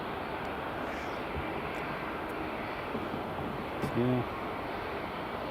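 A British Airways airliner rolls along the runway at Edinburgh Airport, a steady, distant jet engine roar that holds at an even level throughout, with a brief spoken word near the end.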